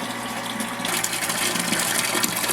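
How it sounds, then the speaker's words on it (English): Water pumped through the recirculation loop of an electric brew-in-a-bag home brewing system, a steady gushing, splashing flow that grows louder and brighter after the first second and holds constant, with no talking. "We got the water recirculating"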